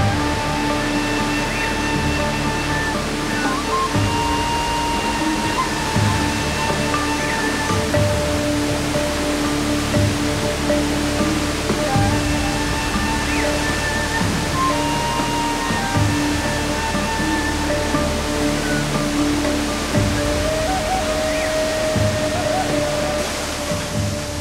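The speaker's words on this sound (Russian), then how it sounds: "С каждым шагом шум воды становится все громче." Steady, broadband roar of rushing water from La Fortuna waterfall in Costa Rica, loud and continuous throughout, close by, with a faint hum of tones underneath.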